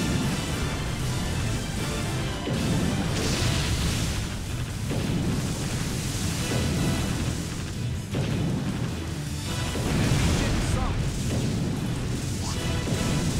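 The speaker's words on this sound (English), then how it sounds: "Nothing can resist a torpedo barrage." A torpedo barrage in the video game Warship Gunner 2 sets off a sustained, loud wall of rumbling explosions and crashing booms that roll on continuously without a break, no talking.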